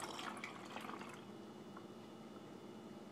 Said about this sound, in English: now we're going to be doing the water with a little bit of red food coloring in it.